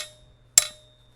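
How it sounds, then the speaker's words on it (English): A brass hammer strikes metal once in an anvil workshop, a single sharp ringing impact that decays quickly in an otherwise quiet space. "So the brass hammer hits the metal"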